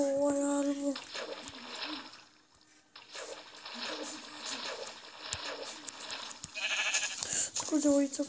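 Sheep bleating in a video game, short synthetic bleats at the start and end with game sounds between, while a person talks over the gameplay.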